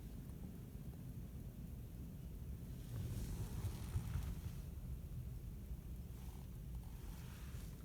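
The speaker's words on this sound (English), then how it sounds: "Look at outside, it's so windy." Strong gusts during a winter wind storm in Quebec roar and rumble against a car, heard from inside as a constant low buffeting that swells louder midway, with no one talking.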